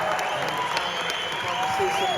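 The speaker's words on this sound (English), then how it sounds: "The greatest round of applause for the greatest in the world." A theatre crowd at a live interview event in Toronto's Meridian Hall claps steadily, a broad continuous applause with occasional sharper claps and cheering, under a voice speaking through it.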